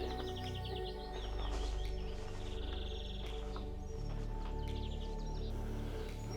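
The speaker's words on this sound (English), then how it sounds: "There's the willow warbler," A willow warbler sings from the apple trees of a garden, its high descending phrases repeating through a steady low rumble of background noise alongside other birdsong.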